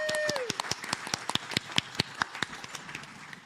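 Meeting audience applauding for a youth advisory board, a sparse, uneven patter of individual hand claps that tapers off after a few seconds, with a brief voice at the start.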